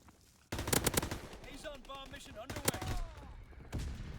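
Rapid gunfire from the Call of Duty WWII video game crackles in dense bursts, loud and close, with a person talking over the shooting throughout.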